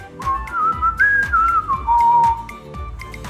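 A parrot whistles a warbling, wavering tune that rises and falls for about three seconds, set over a steady, rhythmic musical backing with no talking.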